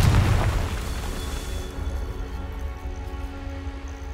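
A fire-blast spell explodes in the video game Hogwarts Legacy, starting with a loud, deep boom that fades into a lingering low rumble and crackle, with no talking over it.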